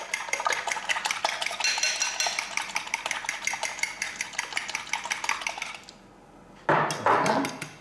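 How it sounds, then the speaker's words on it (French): Three eggs being beaten in a bowl for a broccoli, tuna and gruyère quiche, with a rapid, steady run of close clinking whisk strokes against the bowl, a brief pause near the end, then a short burst of beating. "Donc 3 œufs que je bats."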